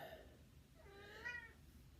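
A house cat lets out a single drawn-out meow, rising and falling, faint and close by against a low background hum, with no talking over it.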